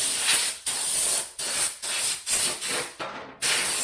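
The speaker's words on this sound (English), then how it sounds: "air compressor" Compressed air from an air compressor blasting into a tight car body panel on a Foxbody Mustang during detailing: six or so sharp, loud hissing bursts in quick succession, each cut off abruptly, close up.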